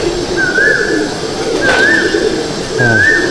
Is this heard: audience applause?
no